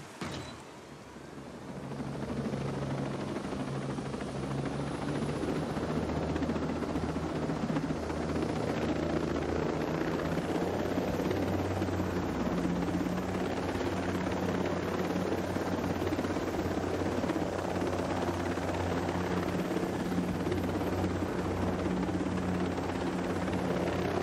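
A large helicopter flying in Ghost Recon Breakpoint, its rotor thrumming in a steady, loud, close drone that holds throughout without break.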